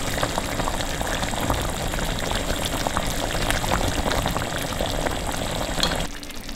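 Meat-stuffed tofu simmers in tomato sauce in a pan, giving a steady close bubbling and crackling that runs evenly for about six seconds, then drops quieter near the end; no one speaks.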